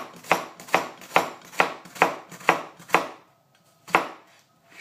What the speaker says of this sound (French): je taille mon oignon dans ce sens-là